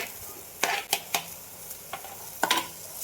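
Cumin, asafoetida, spice masala and coriander leaves hit hot oil in a Malvani tempering, with a steady close sizzle and several sharp spoon scrapes and clinks against the pan.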